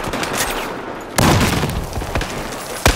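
A grenade blast and gunfire in the video game Battlefield 4: a steady rumble of battle, then a sudden loud burst, with a sharp shot near the end.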